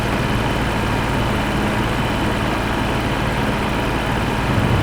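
A really old tractor engine runs in Farming Simulator 25, a steady, loud, low droning rumble that holds constant throughout with no pauses.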